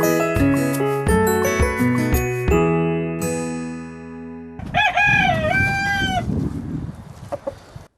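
Madagascar game chickens in an aviary give a close rooster crow at the start, then a second crow follows with clucking and short calls, loud and near, with no talk.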